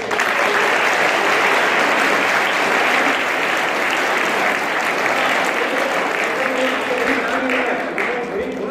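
Steady, dense applause from an audience at a school, welcoming a teacher who caught a snake, sustained at even loudness throughout with faint talk underneath.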